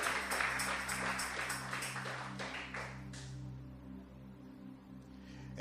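Loud, sustained applause and clapping fills a church, with a dense patter of many hands for about three seconds before it fades to a quieter room tone.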